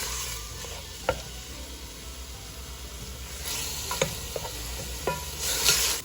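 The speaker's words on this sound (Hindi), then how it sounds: "तो इसको ऐसे प्याज के साथ ही भून लूँगी अच्छे तरीके से" Finely chopped chicken and onion frying in a pan for soup, a steady close sizzle broken by a few sharp clinks of a spoon stirring against the pan, with a brighter hiss swelling near the end.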